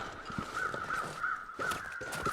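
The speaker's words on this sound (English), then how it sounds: "I'm hearing birds everywhere." Crows caw repeatedly outdoors in a snowy winter wilderness of The Long Dark, a steady series of hoarse calls over a constant background hum.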